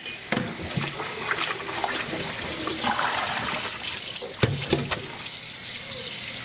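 Cold tap water runs steadily over hand-dyed cross stitch linen coloured with mango and watermelon, rinsing the fruit out in a sink; a continuous close splashing wash with a few louder bursts, no talking.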